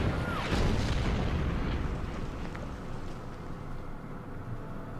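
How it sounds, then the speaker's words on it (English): Artillery fire in the Order of Battle: Panzerkrieg strategy game, on the Winterstorm battlefield: a dull low boom opens, then a rumbling roll that fades slowly beneath steady background noise, with no voices. "Artillery will fire on these guys."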